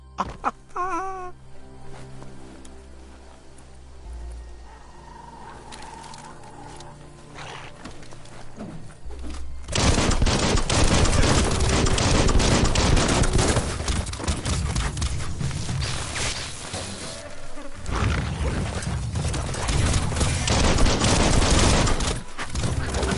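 Dense gunfire in the action game Biomutant, starting as a fusillade of cracks and bangs around ten seconds in and continuing loud and chaotic. Hoofbeat-like clopping and animal cries are mixed in, and a quieter, tonal stretch comes before the shooting.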